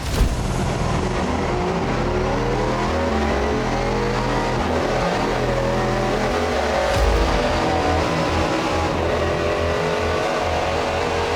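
A loud Ford Talladega engine roars continuously, revving up and dropping between gear shifts as it accelerates, close and dominant with no talking.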